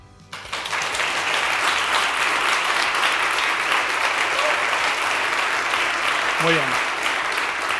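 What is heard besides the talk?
applause on aviation podcast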